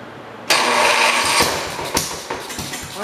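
A 1968 model 110 engine that sat unused for five years cranks and catches, then runs rough and loud up close, with uneven sputters and surges as the throttle is worked.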